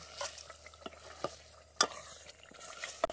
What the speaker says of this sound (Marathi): असा तेलात मसाला रट रट चांगला शिजवून घ्यायचा.